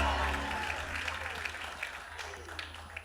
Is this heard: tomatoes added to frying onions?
no